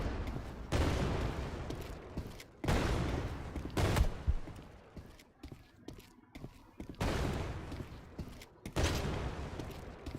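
Rocket launcher blasts in the video game Karagon, four loud broadband bursts with roaring tails spaced a couple of seconds apart, a quieter gap in the middle.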